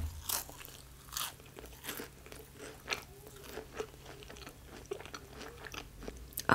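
Close, quiet crunching and chewing of a crunchy Crumbl cookie flavored rice cake, with repeated crisp bites and munches spread evenly through the clip and no talking.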